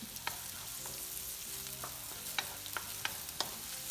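Onions and garlic sauté in a pan over medium heat, with a steady quiet sizzle broken by occasional stirring clicks and scrapes and no voices.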